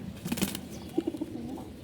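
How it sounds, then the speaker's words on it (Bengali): Old-breed pigeons coo indoors with soft, low murmuring calls in two short bursts, one near the start and a second run of throaty coos about a second later, fairly close and moderately quiet. "পুরান জাতের কবুতর।"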